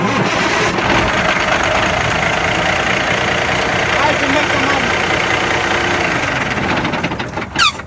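A truck engine idling during a CDL pre-trip inspection, a loud, steady rumbling drone close by, with a voice speaking over it, easing slightly near the end.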